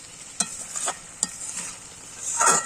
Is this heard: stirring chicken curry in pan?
yes